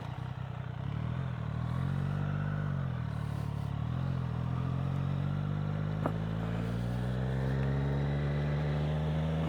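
A Triumph Street Triple motorcycle rides by a lake, its engine droning steadily and close with a gently rising pitch as it accelerates, alone without talk.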